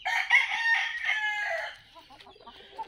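Five-month-old gamefowl stag roosters crowing and clucking nearby, a loud strained crow that breaks off into softer scattered clucks.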